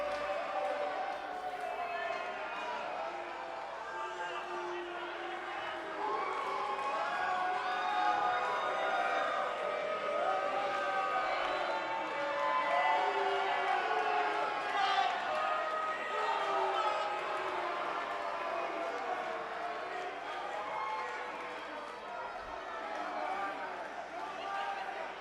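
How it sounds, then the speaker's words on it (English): Wrestling crowd at a live women's championship-contender match, a dense steady roar of cheers and boos mixed together, loud and continuous throughout with no single voice standing out. "The fans seem to be torn on if they should cheer or boo her tonight."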